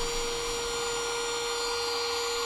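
A vacuum cleaner runs steadily while dust is brushed off a Toyota hybrid battery, giving a loud, even motor whine and airflow hiss that holds without a break.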